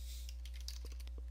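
Rapid, fairly quiet keystrokes on a computer keyboard as a command is typed, a short run of clicks over a steady low hum.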